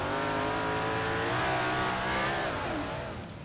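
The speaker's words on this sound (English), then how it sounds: "It's never good when you hear the motor high pitch." A big block modified race car engine in the iRacing video game at Fairbury Speedway revs high and strained, a loud sustained whine whose pitch rises and then falls away.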